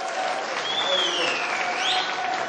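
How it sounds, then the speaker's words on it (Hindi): An audience at a public gathering claps in a dense, continuous burst of applause, with a voice faintly audible over the crowd. "एक बार फिर से ताली बजाओ"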